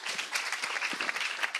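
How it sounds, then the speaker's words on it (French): Audience applause at an e-health awards ceremony, a short steady burst of many hands clapping at moderate level with no speech over it. "on peut l'applaudir"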